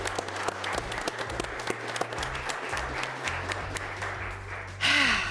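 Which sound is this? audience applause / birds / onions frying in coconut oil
audience applause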